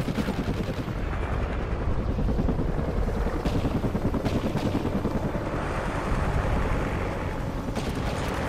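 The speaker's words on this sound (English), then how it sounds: "Friendly chopper inbound." In the Call of Duty Ghosts video game, a friendly helicopter arrives with a continuous rotor rumble beneath rapid, loud bursts of gunfire and occasional booms of battle, dense and unbroken throughout.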